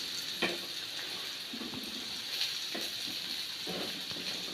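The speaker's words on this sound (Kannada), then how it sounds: "ಈರುಳ್ಳಿ ಫ್ರೈ ಮಾಡ್ತಾ ಇದ್ದೇನೆ" Onions sizzling in a pan for samosa filling, with a steady frying hiss and occasional stirring scrapes, moderately close and with no talk.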